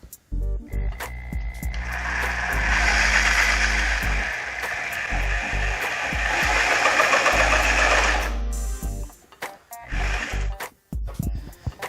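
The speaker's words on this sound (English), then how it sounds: "So I decided to go ahead and grab my DeWalt saw with a metal blade on it." DeWalt saw fitted with a metal-cutting blade slicing through a metal bar, a loud sustained whining grind for about eight seconds before winding down, followed by clanks and a brief second burst of cutting.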